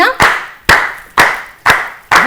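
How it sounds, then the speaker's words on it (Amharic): A studio audience on an Ethiopian children's TV quiz show claps for a young prize winner, with five loud, evenly spaced sharp claps heard close and clear, as if led in unison. "አጨብጭቡላት በደንብ አጨብጭቡላት"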